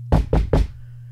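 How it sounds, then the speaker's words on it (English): Three quick, loud knocks rap on a front door in an even rhythm, close by and alone, followed by a low steady hum. "I'll hear the knock."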